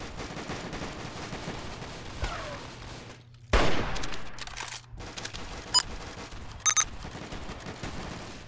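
Roblox game gunfire, scattered sharp shots and a short crackling burst over a low background hum, with a few isolated clicks afterward.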